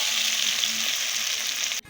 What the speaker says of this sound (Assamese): এইফালে পটল ফ্ৰাই কৰি আছো